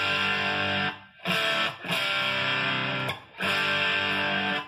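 Electric guitar through a PettyJohn Iron overdrive pedal, drive set high, playing sustained, gritty chords, loud and close, with short breaks between strummed phrases.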